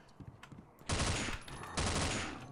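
An SMG in Afraid of Monsters fires two loud, rapid bursts close up, separated by a brief gap and preceded by a second of quiet rustling.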